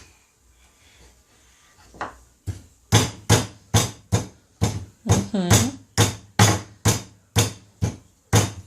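Steady, heavy thuds of a meat mallet pounding cutlets on a board with the flat back side of the mallet, about twice per second, close and loud after a quiet start with a brief murmur.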